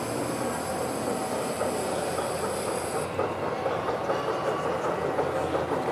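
A brand-new gauge 1 (1:32) S26 steam locomotive in Palatinate livery rolls along a model railway layout at a museum club meet, a steady near rumble and clatter of wheels with hiss, unaccompanied by talk.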